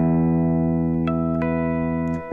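Bell-like electric guitar harmonics ring out over sustained open strings in the clean intro of a song, several chiming plucks standing alone, loud and close.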